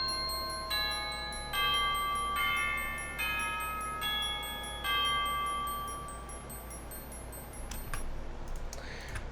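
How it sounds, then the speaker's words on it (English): MIDI tubular bells, celeste and glockenspiel play a bright, high, chiming melody together, its notes ringing in a steady rhythm before the line thins out near the end. "the tubular bells, but we're also going to add in a celeste and a glockenspiel."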